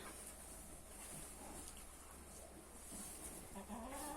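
Chickens cluck softly amid steady farmyard background noise near cows, with a few faint bird calls scattered throughout.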